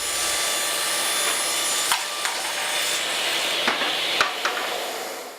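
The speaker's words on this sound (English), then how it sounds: "using a setup block to adjust my table saw fence, I cut the widths" A table saw cuts boards to width, a continuous loud whirring hiss of blade through wood, broken by several sharp clicks and knocks as the pieces are pushed along the fence.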